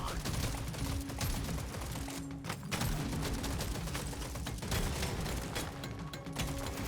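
Weapons in Deep Rock Galactic: Survivor fire nonstop in a busy, overlapping clatter of rapid shots that stays steady and loud, with a few short dips in the barrage.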